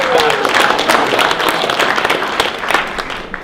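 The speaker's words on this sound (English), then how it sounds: "How about a round of applause for that?" Sustained applause from an audience, a dense wash of clapping that stays loud and even throughout.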